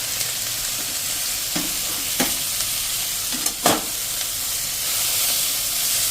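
Radish leaves and spices fry in a pan over a medium gas flame, giving a steady close sizzle and hiss with a few sharp scraping stirs of a spoon, no voices.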